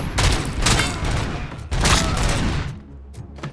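Rapid pistol gunfire in RoboCop: Rogue City, loud close bursts of shots in two sustained volleys with a short break between, tapering off near the end.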